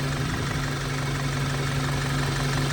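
A 2.0T Audi engine idling, a steady low hum with a mild knocking edge, holding an even drone close by throughout.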